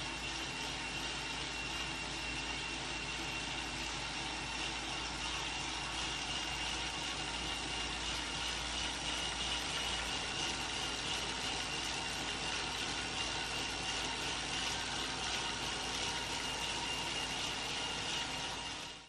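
A Wahoo Kickr SNAP smart bike trainer runs under steady riding, giving off a constant, even whirring hum with a high tonal whine that holds level for the whole stretch, and no talking.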